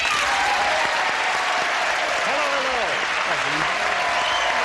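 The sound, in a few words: studio audience applause welcoming game show players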